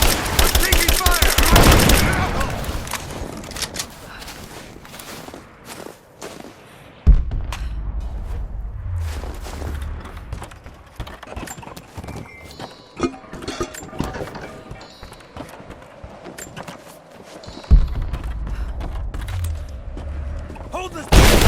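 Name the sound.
gunfire in the video game Rise of the Tomb Raider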